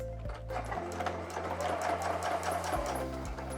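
A sewing machine quilts fabric while outlining a roller skate shape, a fast steady stitching rattle with brief pauses and restarts, close and fairly quiet.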